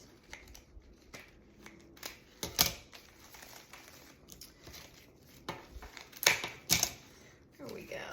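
Snips of silver dollar eucalyptus stems being trimmed, a few sharp cuts standing out among quieter rustling and handling of the foliage, close and fairly faint, with a voice speaking in between.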